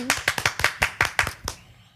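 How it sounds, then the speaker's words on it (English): A small audience claps for a guest at a conversation event, about a dozen sharp, close hand claps in a quick irregular burst that thins out and stops. "we'll just do a big clap for Sashi"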